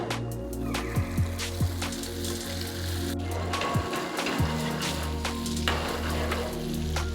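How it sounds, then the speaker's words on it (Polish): Tofu frying in extra virgin olive oil in a hot pan gives a steady, close crackle and spatter over a continuous low droning hum throughout. "dodaję oliwę z pierwszego tłoczenia i smażymy tofu"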